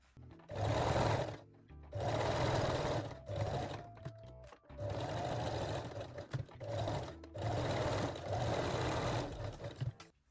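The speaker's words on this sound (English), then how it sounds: "Fold the fold over elastic and sew it again." A sewing machine stitches fold-over elastic on a lingerie bralette, running in several loud, steady bursts of a second or two each with brief pauses between them.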